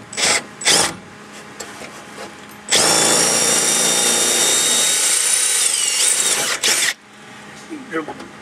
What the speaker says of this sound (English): We're just going to drill this first hole in this.